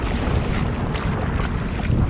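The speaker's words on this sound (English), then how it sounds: "I'm paddling out a little bit to get past the shallows so that I can use the pedal drive" A Riot Mako 12 pedal kayak paddled through shallow water, a dense close wash of water and wind noise with no distinct individual strokes.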